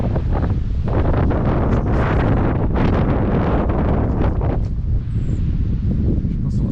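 Strong wind gusts through the Vosges mountains near Lac Blanc above Mittlach, buffeting the microphone with a steady loud roar and rumbling surges, and no voices.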